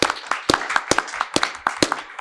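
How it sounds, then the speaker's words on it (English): A small audience claps in a round of applause at a legal aid technology conference, with sparse, uneven hand claps close by and no talking. "I just got to give a round of applause"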